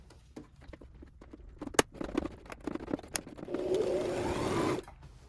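A sewing machine stitches a misses' jacket at a 2.75 stitch length, starting with scattered clicks and taps before settling into a steady, close whirring run for about a second and a half, then stopping.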